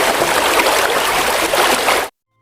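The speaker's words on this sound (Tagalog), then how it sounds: "Tubig ba yon?" Flowing water makes a loud, even rushing hiss for about two seconds, then cuts off abruptly into silence.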